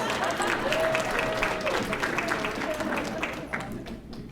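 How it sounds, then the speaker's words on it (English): Town hall audience in Golden Valley applauding, a steady wash of many hands clapping close and loud, with a faint voice or whistle tone threading through and tapering slightly near the end. "Let's give him a round of applause."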